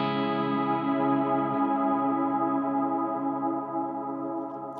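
One guitar chord runs through delay and reverb effects in Logic Pro, a rich sustained tone that decays slowly into a long fading tail across nearly five seconds.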